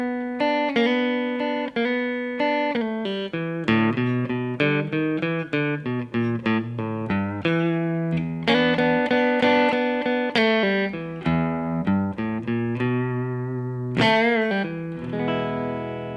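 An electric guitar plays an intro lick slowly and deliberately, with a mildly driven tone: a steady string of picked single notes and double-stops, alone with no talking.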